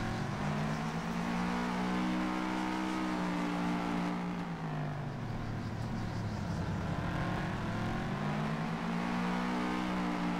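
Car driving in the video game ARMA 3, a loud continuous engine drone that dips in pitch around the middle and climbs again as it accelerates, close and steady without talk.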